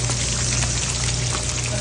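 Carrot marinated in herb oil of garlic, rosemary, thyme, parsley and green onion sizzles on a grill with a steady, dense crackle and hiss throughout, close and fairly loud.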